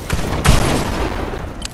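Gunfire in the Fortnite video game: a loud burst of shots, with a heavy blast about half a second in and a sharp crack near the end, set against a dense, noisy game mix.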